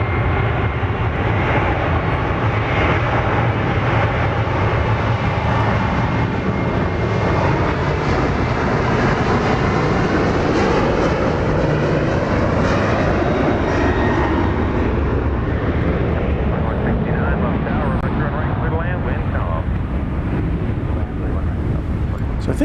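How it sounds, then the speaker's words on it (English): A jet airliner at Dallas Love Field roars continuously and loudly on departure toward Houston Hobby, engine tone rising and shifting as it climbs away, with wind buffeting the microphone and some voices faintly underneath. "the other flight waiting for takeoff, or waiting for permission to take off, is Flight 55 to Houston, Texas."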